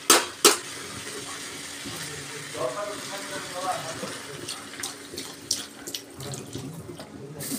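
Water from a tap is poured into a pan of jackfruit curry with prawns being cooked in a home kitchen, a steady running flow with a few clinks and faint background noise.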